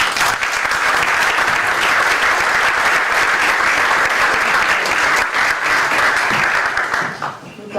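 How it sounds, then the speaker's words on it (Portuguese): An audience at a political information session in Torres Vedras breaks into sustained applause, a dense, even wash of clapping from a sizeable crowd that fades out near the end. "Um aplauso."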